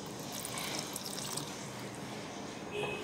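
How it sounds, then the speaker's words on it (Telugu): Hot water trickles softly into a bowl of poori dough, a faint, steady pouring hiss with no voices. "కొద్దిగా వేడి నీళ్ళు యాడ్ చేయాలి।"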